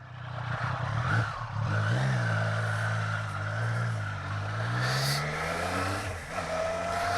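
A 2023 Triumph Street Triple 765RS motorcycle engine revs loudly and close, its pitch sweeping up and down through several throttle blips in a sustained, throaty wail.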